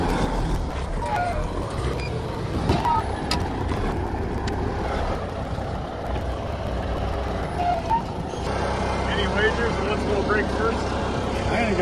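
A Ford F250 pickup's engine drones steadily as the truck tries to reverse while dragging heavy tires. The drone continues for about twelve seconds, with a shift near the end, while people talk nearby.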